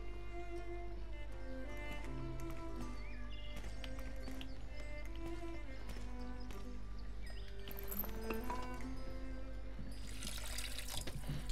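Water flowing and trickling through a mechanical device in the adventure game The Pillars of the Earth, a steady watery wash under layered game music with a brighter splashing burst near the end.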